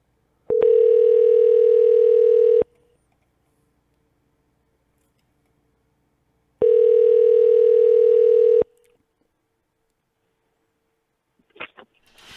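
A phone line rings out twice while a call is placed to a scammer, each steady electronic ring lasting about two seconds and separated by a long silent gap, followed by faint clicks at the end.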